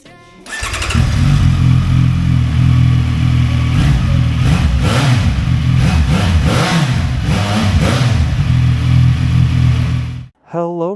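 A CF Moto 675 NK motorcycle engine runs loud and close, revving and holding steady for about ten seconds before cutting off abruptly, with a short burst of sound right after.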